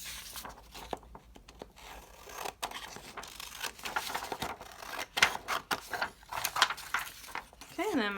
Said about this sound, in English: All right, I'm going to cut this out.